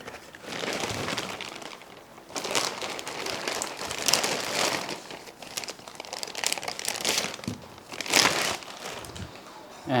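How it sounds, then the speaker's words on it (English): Plastic wrapping crinkles and crumples as it is pulled off an RC excavator, bursts of rustling that swell and fade over ten seconds, with faint talking at times. "let's take out the plastic wrapping"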